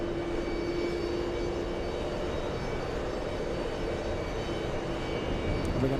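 A JetBlue airliner arriving at JFK in New York, heard as a steady, fairly distant engine roar that holds level throughout with no talk over it.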